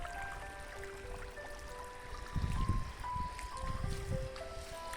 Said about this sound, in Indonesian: mengalir meskipun kecil.